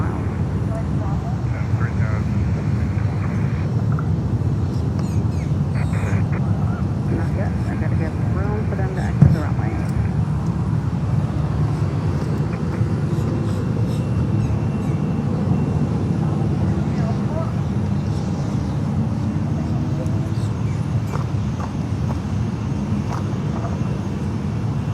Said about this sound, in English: let's go over to Bahamas Air. Currently lining up on runway 10 left here in Fort Lauderdale.